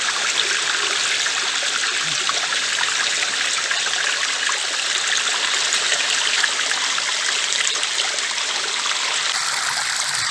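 Water spills steadily down a series of flowstone pools over a 10–12 metre drop into a deep pool inside a cave, a constant broad rushing and trickling with no voices.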